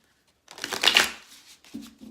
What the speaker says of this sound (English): I'm just going to reshuffle the Gilded Tarot deck for you guys